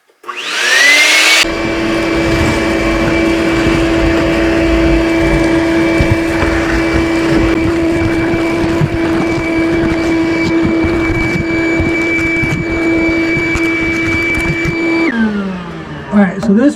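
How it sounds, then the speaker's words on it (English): A vacuum cleaner sucks debris out of the firebox of a Tarm/Scandtec wood boiler, starting abruptly and holding a loud, steady whining drone with a fixed pitch for about fifteen seconds before shutting off and winding down. "we're going to go ahead and vacuum out the rest of it"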